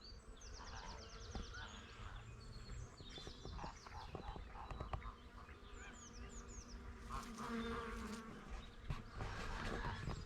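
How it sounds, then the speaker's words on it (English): Bees buzz steadily through a flowering John Downey crabapple tree outdoors, a continuous insect hum with bird chirps scattered above it, moderately loud and sustained throughout. "This tree is positively buzzing."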